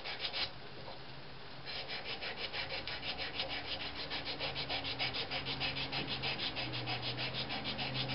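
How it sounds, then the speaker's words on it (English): Steady back-and-forth rubbing of sandpaper on a turned wooden Christmas ornament, rhythmic strokes close up and continuous, with no voices. "once I get done with all the sanding"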